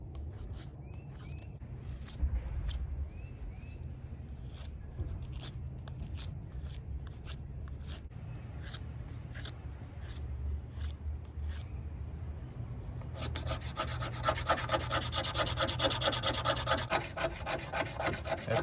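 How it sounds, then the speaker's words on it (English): A blade carves feather sticks and wood shavings from a 2x6 board, giving repeated close rasping scrapes and rubs that grow louder and brighter near the end. "maybe get some feathers and shavings off of this"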